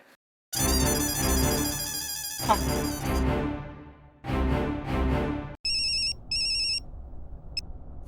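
A telephone rings loudly with a warbling electronic ringtone, pausing between bursts, followed by a few short electronic beeps.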